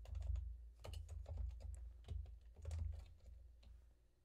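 Keys clatter on a computer keyboard as a Linux terminal command is typed, a close run of irregular clicks and taps with brief pauses, no voice.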